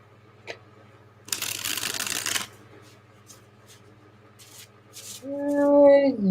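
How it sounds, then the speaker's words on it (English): Tarot cards are riffled in a single quick shuffle, close and crisp, against a quiet room with a faint low hum and a brief voice at the end. "One more shuffle."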